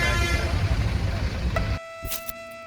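Busy road traffic near Tirumala gives a dense, close engine rumble that cuts off, followed by a sharp vehicle horn honk and a few fainter toots.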